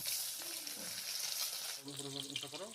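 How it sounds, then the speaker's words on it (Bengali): Half-boiled eggs, slit and coated with turmeric and salt, frying in pure mustard oil in a wok, giving a faint, continuous sizzle with a few soft tonal sounds over it. "এবার ডিমগুলোকে হালকা করে ভেজে নিব"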